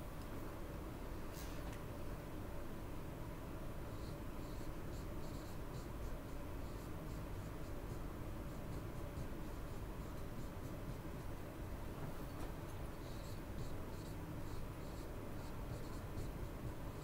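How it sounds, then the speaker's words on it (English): Marker or chalk scratches steadily across a board as categories are written out, in faint bursts of short strokes over a constant low background hum, close by and without talk. "I'm gonna write those categories in the middle here."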